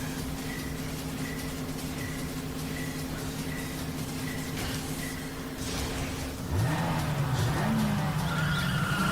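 A taxi roars through a street race in the video game Yakuza 5, its engine droning steadily before tires break into a loud, sustained skid and squeal in the closing seconds.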